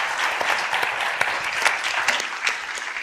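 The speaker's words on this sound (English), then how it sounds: "So let's give a round of applause to our speakers." Audience applause fills a conference breakout session on ESG investing, steady dense clapping from a room of listeners lasting a few seconds at moderate volume with no voices over it.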